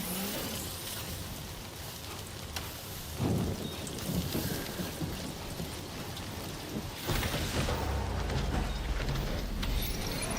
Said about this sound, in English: the rain makes you age like super fast and can kill you